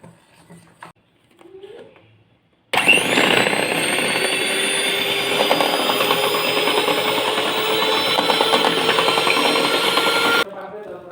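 Steady loud whirring of an electric mixer blending mango cake batter with white oil and a pinch of salt, starting abruptly after a few quiet seconds and running continuously before cutting back down.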